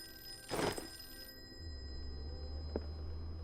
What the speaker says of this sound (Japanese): 電話が鳴ってます